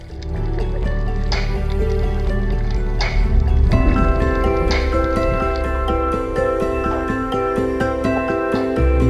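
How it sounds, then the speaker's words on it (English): Pylons being pounded far off, heard underwater while snorkeling off West Palm Beach: a steady run of dull, evenly spaced thuds over a continuous watery rumble and hiss, faint and distant, with no talking. "They're actually pounding in some pylons at a good distance away."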